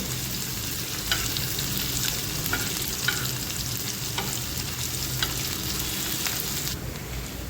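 Crushed garlic and green chilies sautéing in a pan for a dry leafy vegetable dish, a steady loud close sizzle with faint stirring clicks and no speech.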